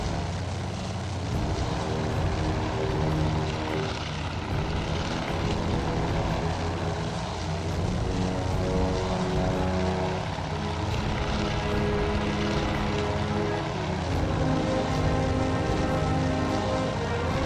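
WWII carrier aircraft propeller engines from the naval war game Task Force Admiral drone loudly and continuously, a dense, steady mechanical roar that holds at an even level throughout with no voices.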